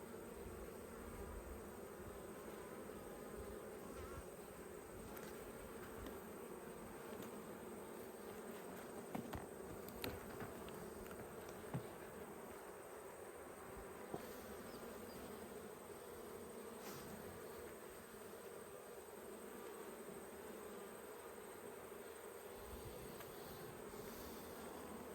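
Steady, faint buzzing of bees around a weakened beehive after an ant attack, a continuous insect drone lasting throughout with a few tiny clicks, no voices.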